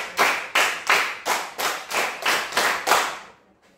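Schoolchildren in a classroom clap together in a rhythmic group pattern, eight crisp, evenly spaced claps in unison that ring out loudly and then stop, with no talking.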